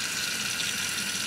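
Liquid from a crock pot liner poured down a kitchen sink drain, a steady, soft hissing splash of running liquid that holds constant throughout without any voices.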